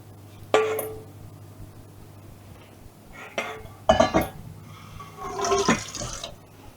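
A metal tray of marinated chicken wings clanks and rattles as it goes into an oven, with a few separate bursts of clinking and scraping against quieter gaps.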